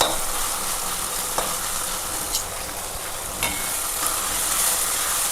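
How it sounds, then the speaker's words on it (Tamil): Onion and tomato sauté in a pan for a pirandai (adamant creeper) kuzhambu, giving a steady close sizzle broken by a few sharp spatula scrapes and clicks. "தக்காளி போட்டதே தெரியாத அளவுக்கு நல்லா வதக்கி எடுத்துடணுங்க"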